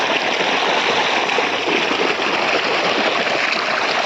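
A continuous, fairly loud rush of flowing water, steady and unbroken throughout.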